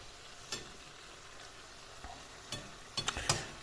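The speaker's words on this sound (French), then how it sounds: "Ça reste de la friture, donc l'huile est très chaude." Beignets frying in very hot oil, a faint steady sizzle close by, broken by a few scattered sharper crackles and pops toward the end, with no talking.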